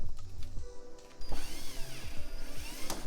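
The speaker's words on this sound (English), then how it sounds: "I'm gonna jack it up a little bit." Jack lifting an Infiniti G35, a few close ratcheting clicks and metallic creaks in short bursts with quiet pauses between.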